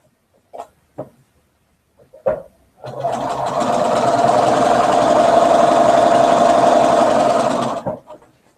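A sewing machine runs steadily for about five seconds, stitching two fabric strips together for a quilt, preceded by a few short clicks and bumps and then stopping abruptly.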